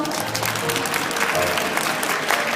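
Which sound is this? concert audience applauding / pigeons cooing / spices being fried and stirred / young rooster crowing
concert audience applauding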